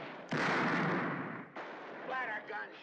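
Gunshots from a film, a sustained burst of loud, close gunfire followed by a second burst, with a voice shouting over the end.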